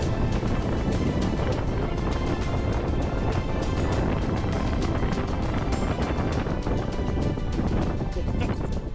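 Strong wind batters the microphone on the cloud-covered summit of Pen y Fan, the highest peak in southern Wales, producing a loud, constant roar and buffeting that fills the whole stretch.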